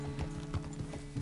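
Horse hooves clip-clopping at a steady walk in the Western video game Red Dead Redemption, even muffled thuds with faint creaks of tack over a low hum.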